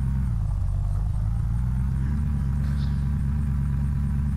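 A slightly damaged van idles in Unturned, its engine a steady low rumble that holds unchanged and loud throughout with no voices over it.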